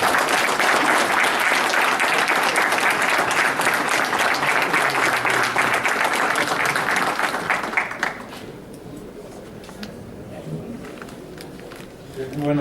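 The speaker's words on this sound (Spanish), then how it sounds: "vamos a recibir al maestro Gilberto Enríquez Harper con un fuerte aplauso" An audience welcomes a speaker with loud, dense applause that holds steady for about eight seconds, then quickly dies down to scattered claps and room noise.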